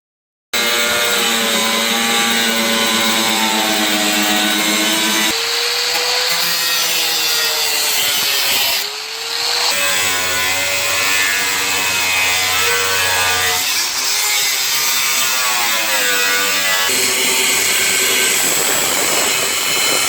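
A power tool cuts into a Foxbody Mustang's hood to fit hood vents, giving a loud, steady, harsh whine that holds throughout with slight pitch shifts as the blade bites into the sheet metal, close up.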